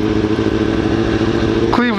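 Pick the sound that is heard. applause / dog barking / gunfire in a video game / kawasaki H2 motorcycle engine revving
kawasaki H2 motorcycle engine revving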